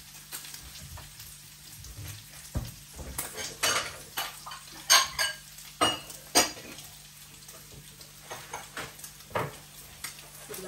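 Fried bacon being lifted out of an oily pan with metal utensils and dropped into a bowl in a home kitchen, with repeated clinks and scrapes of metal on cookware over a low background hum.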